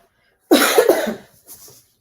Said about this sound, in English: I think my cough is related to weather because I haven't coughed in like 3 or 4 days, and then all of a sudden I coughed today.